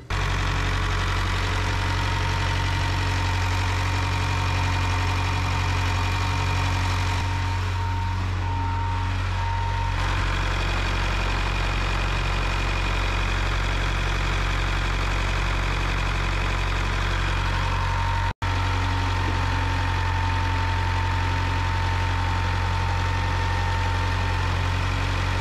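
A Cat D3 bulldozer's engine idles loud and close with a steady, rough diesel rumble and knock. The tone dips briefly partway through, then settles back to the same even throb.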